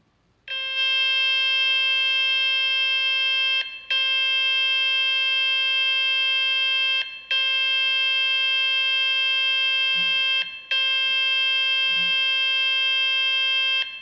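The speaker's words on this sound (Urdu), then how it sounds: "جب میں اس کو پلے کروں گا تو اس میں سے بیپ کی آواز آئے گی۔" A mobile speaker cleaner plays a loud, steady electronic beep tone through a phone's speaker in four long bursts of about three seconds each, separated by brief gaps.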